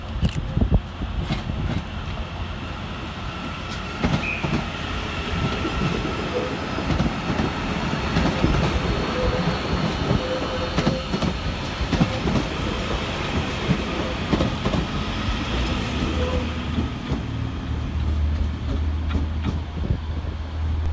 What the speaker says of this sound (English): Next train out to depart is 331029, working the 1715 Northern service through to Stoke-on-Trent.